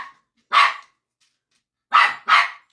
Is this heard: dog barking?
yes